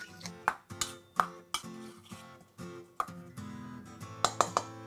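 Minced meat seasoned with salt and pepper is mixed in a deep dish, with a run of sharp clinks and knocks of utensil on dish, uneven and close, with softer squelchy shifting between hits.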